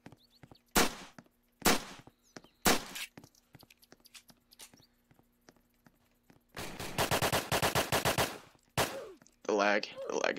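PPSh submachine gun fire in the Apocalypse Rising game, with several single sharp shots followed by a loud rapid automatic burst and another shot near the end. A brief voice comes in at the close.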